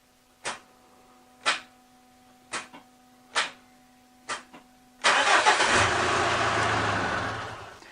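A Mitsubishi Triton's engine turns over in five or six short, separate cranking bursts that start close and loud. Then it catches and runs as a steady, loud idle that fades slightly toward the end.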